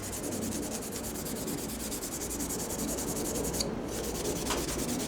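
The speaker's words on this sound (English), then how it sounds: "we're going to go through and we're going to hit all the surfaces with the Scotch-Brite pad" A Scotch-Brite pad rubbing steadily over the surfaces of a forged drop point ring-tailed knife, a continuous close scratchy hiss with faint repetitive texture, no talking.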